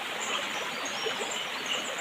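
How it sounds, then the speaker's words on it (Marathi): Clear stream water near a waterfall in the Konkan region rushing steadily over rocks, a continuous broadband rush heard close and alone, without any talking. "इथं पाणी बघा किती मोठं आहे आणि बघा पाणी बघा एकदम किती स्वच्छ आहे ते"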